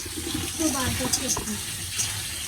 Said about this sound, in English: I'm just gonna wash out the split peas